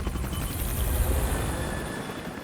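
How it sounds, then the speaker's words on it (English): Helicopters flying, a dense, steady rotor rumble with rhythmic chopping and a broad rushing hiss, loud and continuous with no voices. "The two stealth helicopters managed to cross the border to Pakistan undetected."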